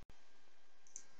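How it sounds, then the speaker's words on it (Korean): A single sharp computer mouse click, close and brief, set against a faint background hum. "클릭"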